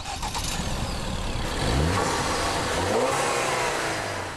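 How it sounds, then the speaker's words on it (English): A 2013 Ford Escape with the 2-litre EcoBoost turbo engine accelerating, a steady loud engine note rising in pitch as it builds speed, with no talk. "The 2-litre EcoBoost motor, however, is the motivator of choice."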